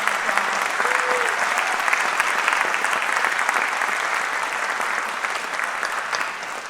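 A school jazz night audience gives the musicians a big round of applause, dense and energetic clapping with a few whoops near the start, tapering slightly as it goes on.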